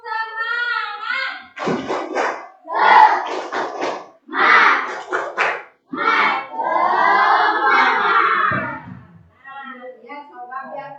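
Schoolchildren in a classroom perform a rhythmic clapping chant, voices shouting in bursts with claps between phrases, loud and close, ending in a longer sung line.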